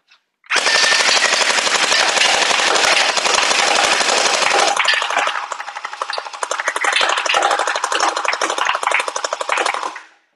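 A DUOMY Mini-AKM47 gel ball blaster fires in long full-auto bursts, a loud, fast mechanical rattle close by that runs for several seconds, briefly weakens, then continues before stopping.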